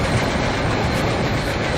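A passenger express train runs along the track in the Microsoft Train Simulator game, a loud, steady broadband rumble of wheels and carriages rolling continuously with no pauses and no voices.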